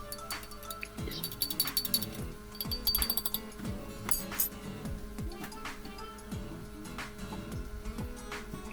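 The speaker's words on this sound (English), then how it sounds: "Put salt to the other glass and stir it until it's dissolved." A spoon stirs salt into a glass of water, giving repeated light clinks and taps against the glass at an uneven rhythm, close and fairly quiet.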